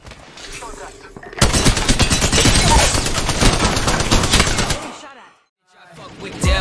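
Rapid automatic gunfire in Apex Legends, loud and close, a dense sustained burst lasting several seconds, then a short silence before firing resumes at the end.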